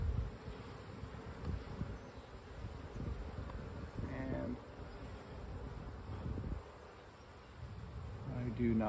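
Honey bees buzz steadily during an open hive inspection: a dense, continuous drone of many insects nearby, rising and falling slightly with occasional louder passes close by.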